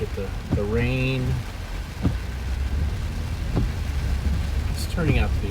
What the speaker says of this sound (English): It's turning out to be a nice rain.